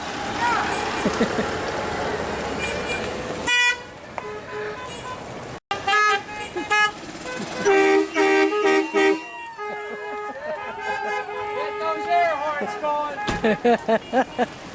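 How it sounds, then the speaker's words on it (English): Golf cart horns toot and honk repeatedly in a slow-rolling golf cart parade at an RV and golf resort, with short beeps and longer blasts layered over engine hum and outdoor crowd noise. "You have a golf cart parade."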